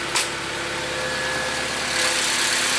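A Honda Del Sol fitted with a stock K20A2 engine idles nearby with a steady, even hum and a faint whine. A brief click sounds near the start, and the idle swells slightly toward the end.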